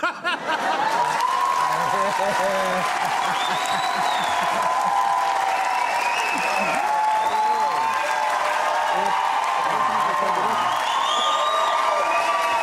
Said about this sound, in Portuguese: Vai deles me aplaudirem mais, então.